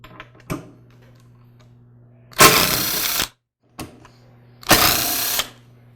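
Screws being driven out of the speed control board on an older KitchenAid Pro Series stand mixer: two bursts of a whirring power driver, each under a second long, with small clicks and taps between them over a low steady hum.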